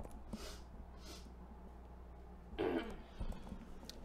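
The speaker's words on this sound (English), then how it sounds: "Excuse me while I cough." Several coughs from one person, a pair of short breathy coughs at the start and a louder, harsher cough near the end, heard close and alone in a quiet indoor room.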